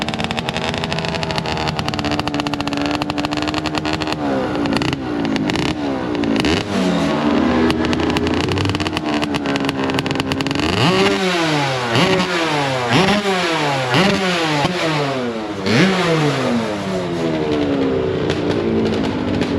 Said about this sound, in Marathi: कानाचे पडदे फाडतील असा आवाज आहे का गाडींना. RX-100चा इंजिन.